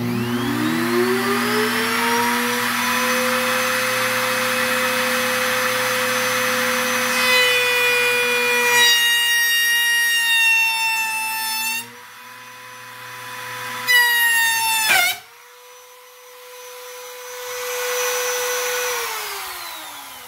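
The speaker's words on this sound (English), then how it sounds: "After that first attempt at routing through the metal, I think it's going to be a really bad idea to do that" A router cuts a groove through the metal wall of a chest freezer: a motor whine spins up, holds a harsh tonal screech with shifting pitch, drops away, bursts again briefly, then winds down.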